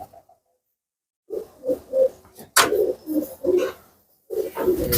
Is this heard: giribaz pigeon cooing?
yes